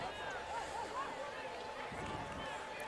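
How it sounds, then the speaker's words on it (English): Crowd at a high school football game between San Dieguito Academy and Carlsbad, a steady murmur and cheering of spectators heard at a distance, with voices in the crowd and some whistle-like calls rising above the babble. "Looks like our loud crowd over there is getting ecstatic."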